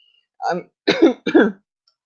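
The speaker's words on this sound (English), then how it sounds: "I'm trying not to cough on air, but it is probably going to happen" Three short, close coughs in a row from a person with pneumonia, throaty and separated by brief pauses, against silence.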